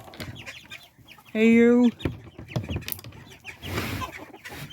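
Chickens in a barnyard coop give a few soft clucks and a brief loud rooster-like call, with someone talking nearby and footsteps on melting snow and ice.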